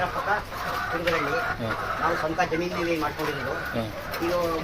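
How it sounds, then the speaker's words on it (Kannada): Mysore native chickens cluck and call nearby on a poultry farm while someone talks over them, the bird sounds mixed with his steady speech. "ಮೈಸೂರು ನಾಟಿ ಕೋಳಿ ತಳಿ ಹೆಸರು"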